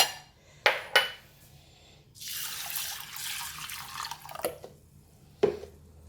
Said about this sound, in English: I'm going to just rinse the barley first